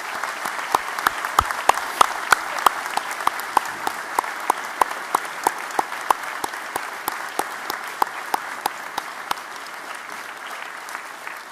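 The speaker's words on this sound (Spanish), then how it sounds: "Y les pido que me acompañen en reconocer con un fuerte aplauso a quienes los apoyaron incondicionalmente, sus padres y familias." Audience at an industrial engineering graduation ceremony applauds parents and families with steady, crisp clapping that holds at an even level for over ten seconds, a dense field of individual claps with no talking.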